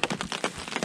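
Rain pattering steadily on a hammock camp in the fall on the Loyalsock Trail, a dense, close, continuous patter with no voices.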